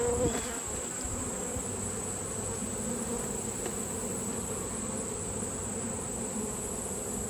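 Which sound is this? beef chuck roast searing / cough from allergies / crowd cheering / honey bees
honey bees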